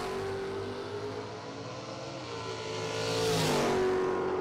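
A drag race car makes a solo pass at a Halloween shootout in West Texas. A loud, rising engine roar swells toward a peak near the end, heard alone with no voices.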